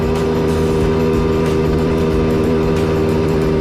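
A small Jawa Kaczka 50 motorcycle engine runs steadily nearby, a continuous buzzing drone with no breaks and no speech.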